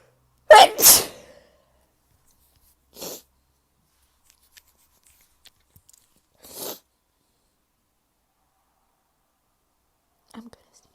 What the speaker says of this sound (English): I'm gonna sneeze. I'm gonna sneeze.